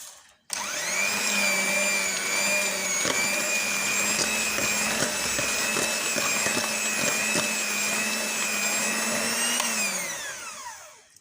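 An electric hand mixer beats eggs into warm choux pastry dough, a loud steady motor whine spinning up, running for about ten seconds, then winding down, with no talk over it.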